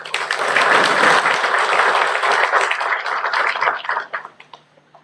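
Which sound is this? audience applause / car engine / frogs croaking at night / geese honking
audience applause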